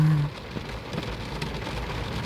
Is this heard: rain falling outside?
yes